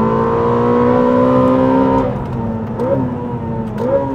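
A 1030-horsepower Ferrari SF90 XX hybrid supercar accelerating at full throttle on a racetrack, its engine note rising steadily, then dropping through quick gear shifts with short revving surges, loud and close.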